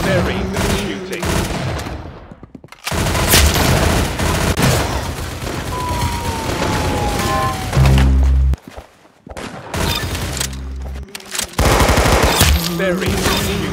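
Bursts of gunfire, including rapid machine-gun-like volleys, break out repeatedly with short gaps of near silence between them, loud and close, with occasional voices.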